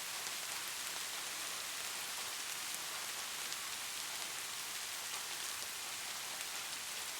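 Steady rain falling in a soft, even hiss with fine patter throughout, continuous and fairly quiet with no voices.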